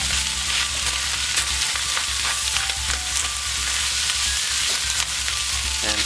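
Fried rice browning in a hot pan, with a loud continuous sizzle and crackle and repeated scraping and stirring strokes as the crust is lifted from the bottom.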